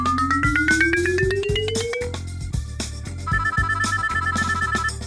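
A telephone ringtone during a call, loud and close, with rising electronic tones, repeated beeping rings and a rhythmic beat, heard alone.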